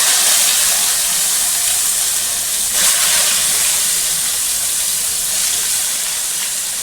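Onions hit hot oil in a pot on a gas stove, giving a loud, steady hissing sizzle that carries on evenly throughout with no voices.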